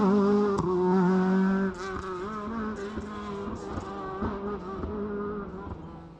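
A Mark II Ford Escort rally car in a modified class runs on a stage at the Galway International Rally, its engine holding a loud, steady buzzing drone with rising and falling pitch as it passes.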